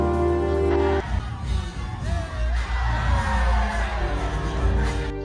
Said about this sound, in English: the whole people who are cheering and clapping are clapping for the people who are dancing